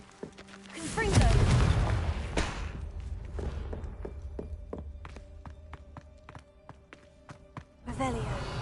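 A voice calls out the Confringo spell in a video game, followed by a heavy booming blast that decays into scattered thuds, footsteps and sharp clicks, with another burst at the end.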